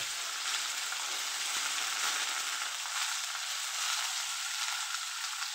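Mango pieces sizzle steadily in hot oil with black cumin, a bright continuous frying hiss close by with faint crackles, no voices.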